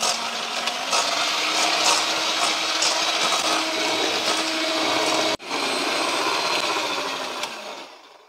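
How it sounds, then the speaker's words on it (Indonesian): Electric mixer beating putu ayu batter with sugar at high speed, heard as a loud steady motorized whir with a brief dropout midway before it resumes and winds down, close, with no talking. "ini kita mixer dengan kecepatan tinggi"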